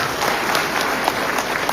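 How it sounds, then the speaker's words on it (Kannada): Dense, steady applause from an audience at a farmers' association gathering, many hands clapping at once throughout with no pauses. "ನಾವು ಜೋರಾಗಿ ಚಪ್ಪಾಳೆ."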